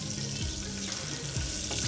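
Chopped shallots and dried red chillies frying in a pan for an Andhra-style gongura chutney, a steady close sizzle and crackle with faint stirring scrapes throughout.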